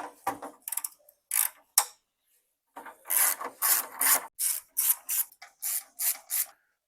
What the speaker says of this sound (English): let's remove this bracket.